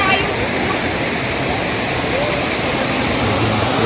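A loud, close waterfall roars as a dense, unbroken rush of falling water that fills the whole stretch.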